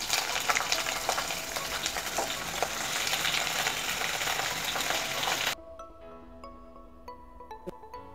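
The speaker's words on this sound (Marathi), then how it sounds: "रताळ्याचे काप तुपामध्ये टाकले की 5 मिनिटांसाठी मोठ्या आचेवर परतून घ्यायचे" Sweet potato slices sizzling in hot ghee in a heavy-bottomed kadhai over high heat, a loud continuous crackling fry that cuts off abruptly, leaving quiet clinks and faint residual sizzle.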